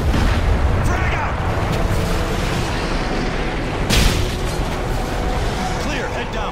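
A frag grenade detonates in Modern Warfare 3 during a hatch breach: a single loud burst near the middle rises out of dense, continuous combat noise and heavy rumble, with people talking throughout.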